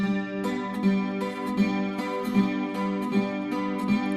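A Chilean guitarrón strums a tonic chord without diablitos over and over in a steady rhythm, close and clear, with no voices.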